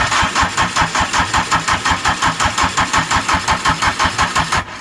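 A repaired Super-Pony moped engine turns over in steady rapid pulses, a loud, close, rhythmic chugging that runs evenly for several seconds before cutting off abruptly at the end.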